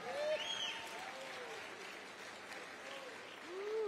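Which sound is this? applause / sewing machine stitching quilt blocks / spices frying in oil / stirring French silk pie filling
applause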